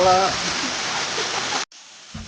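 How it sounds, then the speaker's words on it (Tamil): A waterfall at Kolli Hills, Tamil Nadu, roars as a loud, close, steady rush of water. A voice is briefly heard at the start, and the sound cuts off sharply, leaving a much quieter remainder. "அருவி காட்டாற்று வெள்ளம் போல போட்டு"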